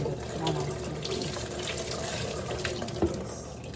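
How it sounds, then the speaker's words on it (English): Water poured over a granite countertop to rinse it, a steady close splashing rush that runs unbroken throughout with no speech. "So here now I'm going to pour the water on the granite."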